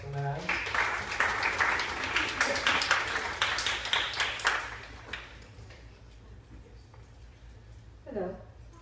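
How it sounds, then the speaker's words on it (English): A modest youth-ministry crowd gives a round of applause at a church service, dense clapping for about five seconds that fades out, followed by a brief spoken voice near the end. "Can we give a little golf clap round of applause for Lynn Adams?"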